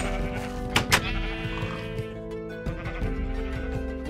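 Sheep bleat in Minecraft, two sharp cries close together early on and a softer one later, over a steady layer of game music and ambient hum.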